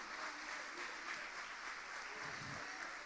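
A church congregation claps together during worship, a continuous, fairly faint patter of applause that holds at an even level with a light murmur of voices underneath.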